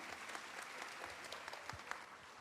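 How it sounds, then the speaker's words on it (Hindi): An audience at a Hindi spiritual discourse claps together, giving a dense, steady burst of applause with no voices over it. "ताली बजा के अभिनंदन कीजिए"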